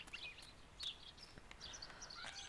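Birds chirp on a patio in the video game Martha Is Dead, a faint scatter of short high tweets and calls repeating irregularly over a quiet background.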